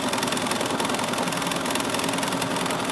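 Constant fast chatter of a sewing machine stitching quilting along a table topper border, close and loud, unbroken for the whole stretch with no voices.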